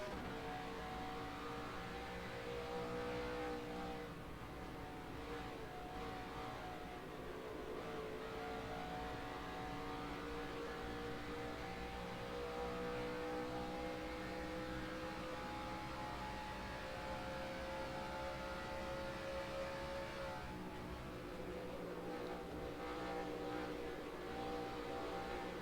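Stock-car racing engine from the NASCAR Racing 2003 video game, a steady loud drone that rises and falls in pitch as the car accelerates and settles, continuous throughout with no talking.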